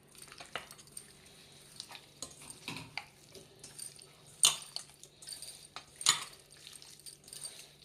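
A spoon stirs Andhra-style cashew mutton curry in a pan just after thick yogurt goes in. Quiet, uneven scraping comes with a few sharper clinks against the pan, and there is no talk.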